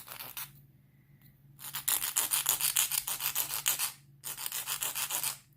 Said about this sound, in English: I'm just coming in and file like that to get the top straight.